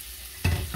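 Chicken searing in a pan with garlic bursts into a sudden loud sizzle partway through, following a quiet moment, close and without talk.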